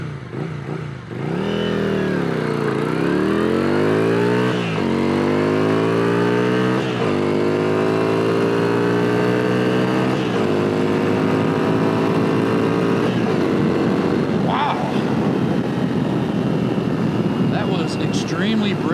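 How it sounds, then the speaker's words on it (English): Yamaha Virago 535 motorcycle accelerating hard from a standstill toward 60 mph, engine note climbing through several gear changes, loud and close throughout with wind rush building near the end. "Extremely brisk acceleration, I'm not gonna lie."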